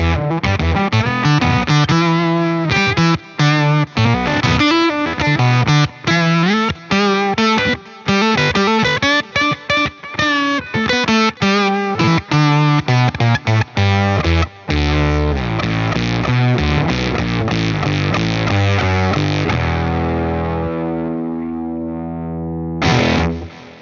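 Heavily distorted electric guitar from a Fender FMT Telecaster on the bridge pickup, played through a modeled 65 Deluxe Reverb Blonde amp with stereo tape echo, riffs loudly with repeating echoes trailing off into a fading tail.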